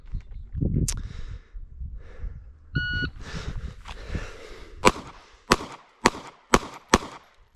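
A short electronic shot-timer beep sounds, followed moments later by a string of sharp, loud gunshots from a Smith & Wesson Bodyguard 2.0 pistol fired in quick succession, with faint rustling before.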